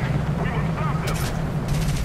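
Aircraft guns fire in War Thunder aerial combat, with two short bursts of gunfire cutting through a constant dense engine and battle rumble, and a voice heard faintly beneath.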